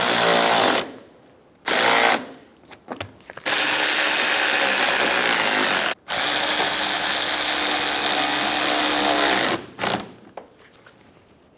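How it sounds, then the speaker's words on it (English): A power screwdriver whirs in several sustained bursts as screws are driven into the front fender liner of a 2012-2020 Chevrolet Sonic 1.8L, with brief pauses between runs, close and fairly loud. "Install the 3 screws on the side of the fender liner."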